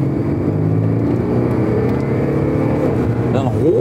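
An Audi SQ TDI diesel engine with an exhaust speaker system hums and revs with a deep, droning exhaust note, steady and loud, with a voice briefly audible over it near the end.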